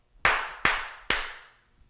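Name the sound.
three hand claps to sync audio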